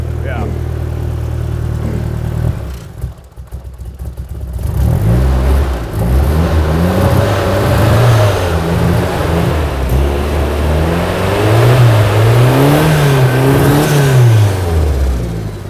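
A race car engine runs and revs in rough, rising and falling bursts of medium loudness, close by, with voices talking over it; the car could use fresh gas and new plugs.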